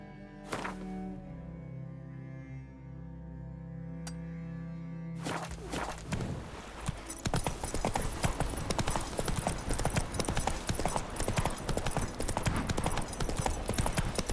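Roach, the horse in The Witcher 3: Wild Hunt, gallops in a steady, loud clip-clop of hooves that takes over after a few quiet opening seconds and keeps a rapid driving rhythm to the end.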